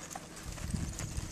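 A rescue mare, a former schooling horse, jogs at an easy pace, hooves clip-clopping faintly and irregularly over a soft background.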